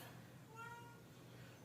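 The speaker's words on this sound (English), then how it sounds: "my cat is calling me, so she must enter" Pet cat giving a single drawn-out meow at middle distance, faint and brief against a quiet room.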